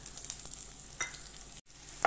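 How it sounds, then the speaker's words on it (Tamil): A handful of small onions fry in hot oil for a gravy base, giving a soft, close sizzle with light stirring scrapes and a few sharper clicks. "இதுல ஒரு கைப்பிடி அளவுக்கு சின்ன வெங்காயத்தை போட்டு நல்லா வறுத்து எடுத்துக்கலாம்."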